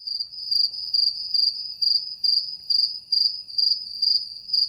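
Steady rhythmic cricket chirping in repeated pulses, high-pitched and clear, with no voices.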